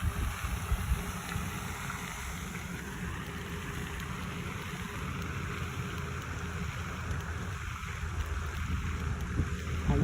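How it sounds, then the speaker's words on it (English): Steady, loud broadband rush of a waterfall fills the whole span without a break, a dense continuous roar with no voices over it. "I just love that waterfall."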